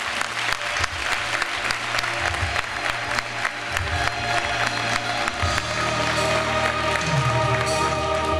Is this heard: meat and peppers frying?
no